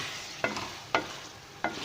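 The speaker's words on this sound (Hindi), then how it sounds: "अभी इसको अच्छी तरह हम टमाटर के मेल्ट होने तक जो है हम इसको भूनते हैं" Meat and tomatoes being bhuna-fried in a pot for kaddu gosht, a soft continuous sizzle broken by three spaced scrapes of a spoon against the pot.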